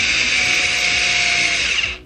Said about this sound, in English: I'm trying to drill a hole, and this is the drill I have